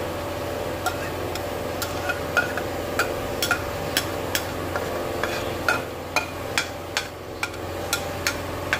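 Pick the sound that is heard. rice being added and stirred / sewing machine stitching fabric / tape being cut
rice being added and stirred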